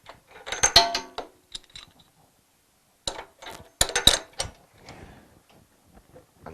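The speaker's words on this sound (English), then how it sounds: "Tighten the spark plug." Spark plug on a Hyundai HYW2500P pressure washer being tightened with a spanner bar: short bursts of metallic ratcheting clicks near the start and again after a pause, close and fairly quiet.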